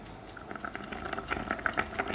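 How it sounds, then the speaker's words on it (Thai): Wild garlic blanching in a pot of salted water at a rolling boil, a soft bubbling patter with small pops and crackles close by, steady and fairly faint throughout. "ใส่ลงไป ในหม้อที่น้ำเดือดนะคะ เราใส่เกลือลงไปด้วยนะคะ"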